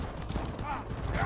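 Horse hooves clip-clop quickly in the medieval combat game Mordhau, a short burst of rapid hoofbeats mixed with battle noise and faint music.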